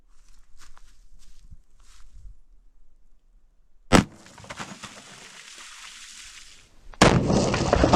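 A .460 Rowland handgun fires a Buffalo Bore 255-grain hardcast round into water jugs with a bone barrier outdoors: one sharp, loud crack near the middle, followed by a second loud burst near the end, after quiet handling noises.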